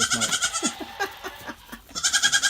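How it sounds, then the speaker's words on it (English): Baby goats running around underfoot bleat over and over, several close, high wavering cries overlapping in quick succession. "This is just crazy goat madness to have them all running around underfoot."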